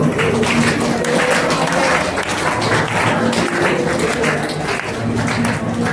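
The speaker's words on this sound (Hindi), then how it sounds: "ताली बजाओ।" An audience claps steadily in rhythm at a devotional Vrindavan katha, a dense continuous patter of hands over a background of music and voices.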